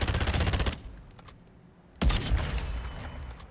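Rapid bursts of assault rifle fire in Modern Warfare 2, one dense volley, a brief lull, then a second loud burst with no talk over it.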